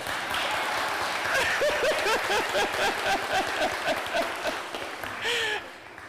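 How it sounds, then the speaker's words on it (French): A church congregation applauds during a Catholic Mass homily, a steady wash of clapping that fills most of the stretch before tapering off near the end. "est-ce que vous pouvez m'applaudir au moins?"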